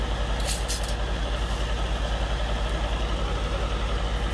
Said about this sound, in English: Sounds like the fan is making some noise in the spray booth